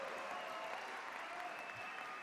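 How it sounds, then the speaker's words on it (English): Crowd applause at a get-out-the-vote rally in Buffalo for Governor Andrew Cuomo, a dense, even, distant-sounding wash of clapping that holds steady throughout. "Give yourselves a round of applause."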